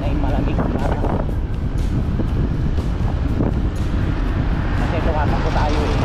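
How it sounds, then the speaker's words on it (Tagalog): Steady wind rushing past a moving vehicle on the road to Tagaytay, a loud continuous buffeting roar with engine rumble underneath, constant throughout with no pauses. "Ang hampas ng hangin ay malamig na."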